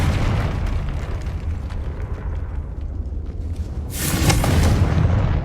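A Confringo fire spell blasts in Hogwarts Legacy, a loud bright explosive burst near the end that sits over a steady rumbling game background.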